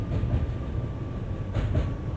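A Pendolino train in the Open BVE train simulator game rumbles steadily past, a continuous low rolling rail noise with a faint swell midway and no talking.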